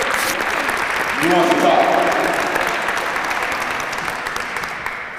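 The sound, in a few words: audience round of applause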